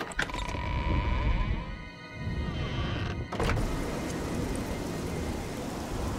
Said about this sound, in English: Ah, the rain.